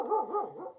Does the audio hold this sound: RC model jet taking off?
no